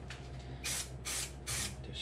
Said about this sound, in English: Spray that piece there, allow it to get nice and tacky.